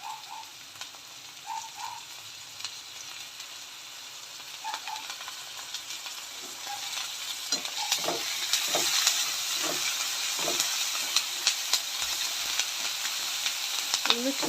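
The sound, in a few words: ginger garlic paste frying in pan for fish curry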